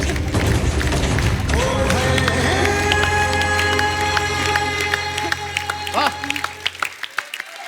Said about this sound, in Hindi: जोरदार तालियां इसको देने के लिए